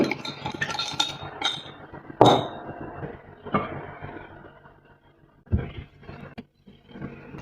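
Thick hot-process herbal soap mixture, separated into layers and scented with citronella, menthol and turmeric oil, gets stirred in a pot. Irregular close scrapes, knocks and clinks of the utensil against the pot are separated by short quiet pauses, with no talking.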